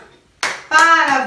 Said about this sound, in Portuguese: Palmas para vocês.